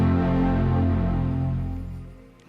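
The Apple brand sound: a deep, rich sustained chord swells and slowly fades, a warm startup-style tone with no voices.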